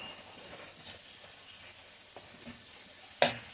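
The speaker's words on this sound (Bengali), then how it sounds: "তেল গরম হয়ে আসছে" Oil heating in a pan before bottle gourd kofta are fried, giving a faint steady sizzle and hiss with a single sharp click near the end.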